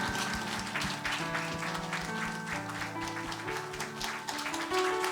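A church congregation at a Sunday morning service applauds to congratulate new members, a soft steady patter of many hands under music, fairly distant and continuous.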